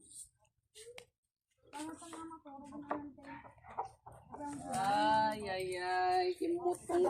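Chickens and stags at a Filipino poultry farm cluck and call in a close, busy stretch, with a person talking over much of it.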